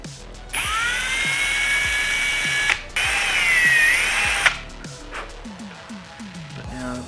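A 2.5 mm drill bit bores out clogged oil-return holes in a piston's oil ring groove for a Daihatsu EJ-DE 1-litre three-cylinder engine. It gives two close, high-pitched whining bursts with a short pause between, then quieter knocks and handling clatter.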